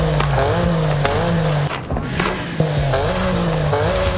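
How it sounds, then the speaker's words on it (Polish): BMW M4 engine revving hard while drifting in the game Forza Horizon 5, with loud rising and falling revs, gear shifts and tire noise, dropping briefly mid-clip before surging again. "Świetnie brzmi ten samochód."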